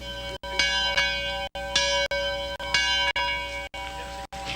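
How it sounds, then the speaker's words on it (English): A large bell ringing repeatedly with a rich, sustained metallic tone, strokes overlapping in a steady swinging rhythm. "Each home would have a distinctive bell, with a distinctive ring"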